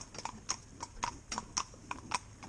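Two harnessed horses trot together, hooves clip-clopping in a quick, even rhythm of crisp, fairly close beats with no talk over them.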